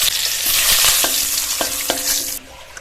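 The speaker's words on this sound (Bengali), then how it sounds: "গরম তেলে দিয়ে দেবো তেজপাতা, শুকনো লঙ্কা আর গোটা গরম মশলা।" Bay leaf, dried red chilli and whole garam masala spices hit hot mustard oil in a kadai, sizzling loudly and steadily with a few stirring scrapes before the frying noise drops off sharply near the end.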